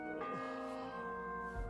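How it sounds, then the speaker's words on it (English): A church bell tolls in the medieval world of Kingdom Come Deliverance II, one rich, sustained strike with a long humming decay and low rumble beneath, alone without voices. "The 7th bell."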